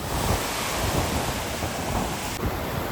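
Waves break and wash on a beach on Phu Quoc, Vietnam, a continuous roaring surf mixed with gusty wind buffeting the microphone.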